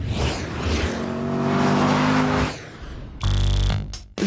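A Porsche Boxster RS60 Spider, 303 bhp, runs on a handling circuit. Its engine drones and rises steadily at close range, then cuts to a louder, harsher burst of revving near the end, with no talk over it.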